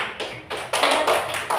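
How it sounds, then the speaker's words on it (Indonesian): A classroom of students claps together in short, rhythmic bursts, loud and close, with a patterned beat rather than scattered applause. "berikan aplaus dulu"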